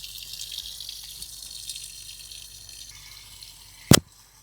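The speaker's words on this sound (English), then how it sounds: "So we turn on the water." Water runs from a tap in an RV, a soft steady hiss that thins out midway before a sharp clunk near the end and quiet after.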